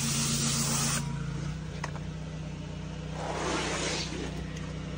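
A pressure washer pre-treats a dirty walkway with a steady hissing spray over a constant engine drone, the hiss swelling twice in longer passes, close and continuous, with no talking.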